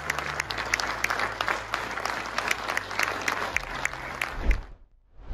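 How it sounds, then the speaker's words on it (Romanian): Standing ovation at a city council ceremony honouring an Olympic champion, dense sustained clapping from a crowd that fades out near the end before a brief silence. "s-au ridicat în picioare urmând ropote de aplauze în semn de respect pentru performanțele campioanei olimpice Constantina Diță."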